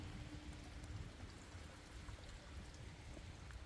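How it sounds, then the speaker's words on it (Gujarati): Steady rain hisses continuously, a dense, even wash of falling water with no voices. "આજે વરસાદ બહુ છે"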